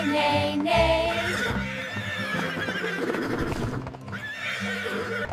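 Horses neigh in loud, repeated whinnies against a children's farm song about horses on a bus, with clip-clopping hooves and music running throughout.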